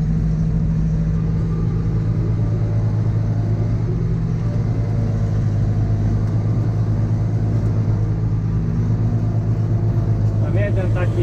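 A four-cylinder tractor engine runs at a steady idle, a close, continuous low rumble with an even drone that holds for the whole stretch without revving.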